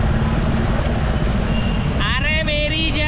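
Road traffic heard from a motorcycle riding home, with a continuous loud rumble of engines and wind, and a high-pitched horn or beeping joining in near the end.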